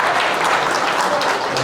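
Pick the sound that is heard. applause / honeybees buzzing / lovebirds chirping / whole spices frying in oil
applause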